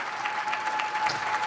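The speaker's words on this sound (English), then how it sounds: "The applause is underway." Applause fills a stock exchange floor as the market opening bell approaches, a dense, steady clapping from a crowd heard continuously.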